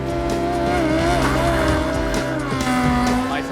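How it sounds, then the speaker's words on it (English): A motorcycle sidecar professional racing rig roars loudly up close, its engine tone rising and shifting while tires squeal, with a voice speaking over it. "let me present this motorcycle sidecar professional racing rig, otherwise known as Sharkus Maximus"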